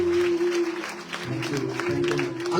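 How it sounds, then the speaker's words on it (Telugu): A church congregation claps together, a brief burst of dense applause over a sustained held musical tone, fairly close and moderately loud. "యేసయ్య ఒకసారి చప్పట్లు కొట్టి ప్రభువుని కనపరచండి"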